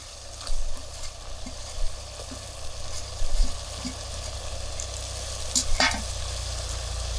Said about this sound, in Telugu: టమాటా ఒక్కలు ఉడికిందంటే ముందుగా ఎంపుకొని పక్కకు పెట్టుకున్న రొయ్యలు వేసుకుంటానా.